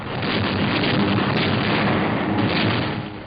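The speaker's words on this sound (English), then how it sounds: "Explosions and fires are sucking the oxygen from the air." A continuous loud roar of blasts and rumbling detonations from a 1945 bombing of a German city fills the whole stretch, dense and muffled like distant heavy bombardment.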